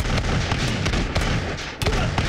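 A loud burst of gunfire from a volley in Totally Accurate Battle Simulator, with dense overlapping cracks and booms at the start and again near the end of a busy battle din.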